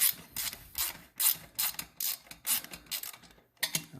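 A ratchet wrench clicks in quick repeated strokes while loosening a skid plate bolt on a 2022 Beta X-trainer dirt bike, the sharp clicking bursts close and rhythmic with short pauses.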